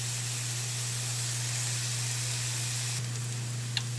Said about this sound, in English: we're going to saute these until it reduces down to a paste on low heat